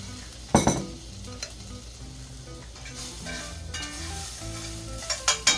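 Bread toasts in an overly hot frying pan with a steady close sizzle. A sharp clatter comes as the bread goes down, and a few clinks near the end, with no voices.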